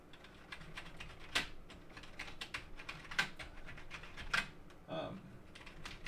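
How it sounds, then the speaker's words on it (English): Keys on a Silicon Graphics O2 computer keyboard clatter and tap unevenly as the keyboard is wiped clean, soft close clicks with a few louder knocks, over low background hiss. "Maybe the sound of someone cleaning a keyboard"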